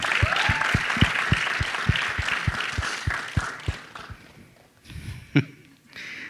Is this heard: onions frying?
no